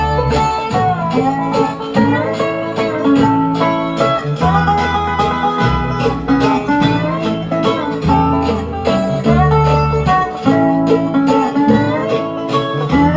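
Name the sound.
bluegrass fiddle licks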